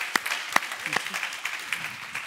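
Audience at an Italian decarbonization policy conference claps, starting with a few sharp, separate claps and then a thin, quieter scatter of clapping, fairly faint overall.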